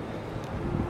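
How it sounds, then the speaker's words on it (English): Wind blowing outdoors on a windy day, a steady low rumbling buffet across the microphone that fills the short moment without any talking. "How's it going on this windy day?"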